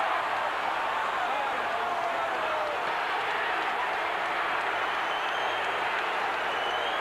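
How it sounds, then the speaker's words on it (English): A boxing arena crowd boos after a first-round stoppage, a dense, steady roar of many voices that fills the whole stretch without a break, with commentary blended in. "Well, there's some booing going on"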